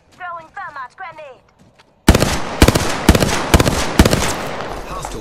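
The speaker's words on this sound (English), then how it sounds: "Throwing thermite grenade." A thermite grenade thrown and bursting in Apex Legends, heard as a string of loud, sharp cracking pops in quick succession right after a short spoken callout.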